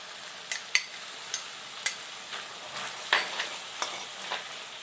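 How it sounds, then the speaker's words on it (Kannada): Baby corn fries with soy sauce in a pan, a steady sizzle punctuated by repeated sharp clinks and scrapes of a spatula stirring against the metal. "ಸೋಯಾ ಸಾಸು ಇಷ್ಟು ಹಾಕ್ಕೊಂಡು ಒಂದು ನಿಮಿಷ ಫ್ರೈ ಮಾಡ್ಕೊಳ್ಳೋಣ"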